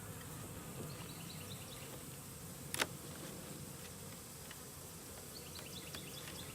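Honeybee swarm being hived, buzzing steadily and quietly around the hive, with a brief sharp knock partway through.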